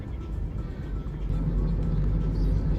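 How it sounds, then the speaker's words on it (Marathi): A car drives through a tunnel on the Mumbai-Pune Expressway, with a steady, enclosed low road rumble and engine drone that swells slightly louder partway through. "टनेलमध्ये गाडी आहे आत्ता"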